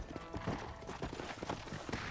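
Horse hooves clip-clopping in the video game Red Dead Redemption: quick, rhythmic hoofbeats at a trotting pace, fairly faint and close, with soft rustling between the steps.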